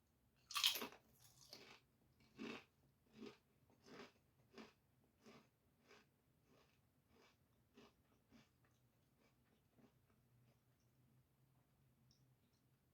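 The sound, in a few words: chewing Great Value sour cream and onion chips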